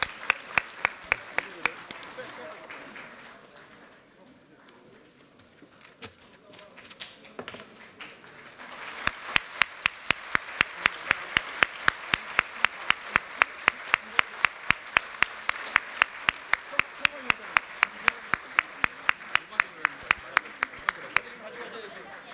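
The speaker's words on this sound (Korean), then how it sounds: "뜨겁게 박수 부탁드리겠습니다." Applause from Democratic Party lawmakers at a National Assembly floor-leader election, greeting Kim Tae-nyeon's win. It starts faint and scattered, then swells into sustained, evenly paced, rhythmic clapping that fills the room.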